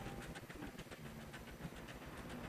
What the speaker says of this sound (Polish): Ale pociąg jeździ.